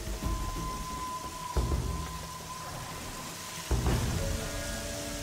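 Steady hiss of rain falling continuously in the video game Horizon Zero Dawn on PS4, with a couple of brief low thumps and a faint tonal hum in the background.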